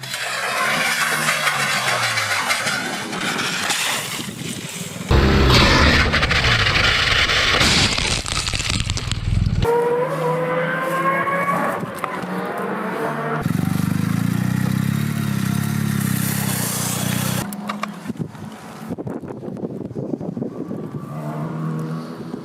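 A BMW R1250R motorcycle engine revs and accelerates hard, loud and close, with abrupt shifts in tone between segments and no talking.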